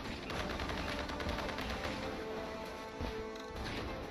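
Dense game soundscape from Kingdom Rush's pirate campaign, with a steady wash of rapid cracks and impacts like shots and artillery fire continuing throughout, fairly loud and busy with no clear pauses.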